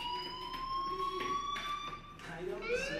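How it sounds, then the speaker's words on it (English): A fire alarm sounds in the video game Life Is Strange, with a continuous, faint, wailing electronic alarm tone that shifts in pitch near the end. "Hey, do you hear that fire alarm?"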